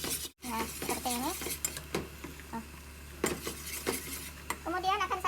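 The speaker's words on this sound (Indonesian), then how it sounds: "Aduk-aduk." A utensil scrapes and stirs flour in oil in a pan with repeated clinks and scrapes, soft sizzling underneath and brief bits of nearby chatter.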